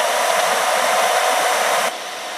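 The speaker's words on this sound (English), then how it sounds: "I'm going to go ahead and blow dry for a quick sec." A hair dryer blows steadily to dry paint on an art piece, a close, loud, even whoosh with no talking that drops slightly in level just before the end.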